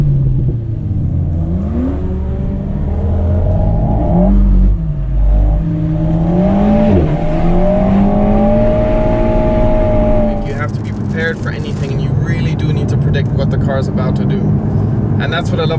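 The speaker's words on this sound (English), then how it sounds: "You have some more pops and bangs on the overrun." Alpine A110 S engine revving hard with traction control off, pitch climbing and falling through gear changes, followed by a burst of crackling pops and bangs on the overrun; a voice talks over the engine throughout.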